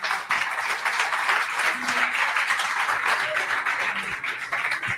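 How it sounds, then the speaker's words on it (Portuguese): Church congregation applauding together, a steady wash of many hands clapping that holds for several seconds at moderate loudness, with a few faint voices mixed in beneath. "Dê um aplauso ao Senhor Jesus."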